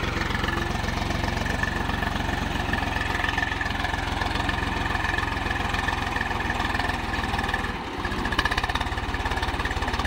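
A Swaraj 735FE tractor's engine runs in sand with a steady, close, knocking chug, holding an even throbbing rhythm that dips briefly and then picks up again.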